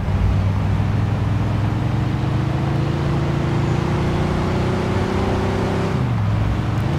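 A stolen police car driven in Mafia 2, its steady engine drone holding a rising pitch for several seconds before dropping as the car slows, loud and continuous with no talk.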